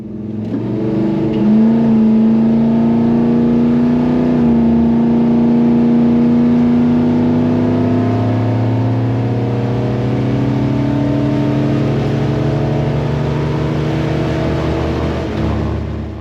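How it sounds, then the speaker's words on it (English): A 1964 Dodge launches down a drag strip, its engine roaring loud and steady as the transmission snaps into second gear almost immediately, the revs holding a sustained tone for many seconds without any talk. "listen to the transmission shift. You can hear it hit second gear almost immediately after the starting line."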